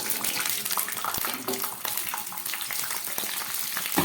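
Bay leaves, dried chillies, cardamom and green peas hit hot oil in a Bengali kitchen pan, giving a steady close crackling sizzle with soft stirring scrapes and no talk.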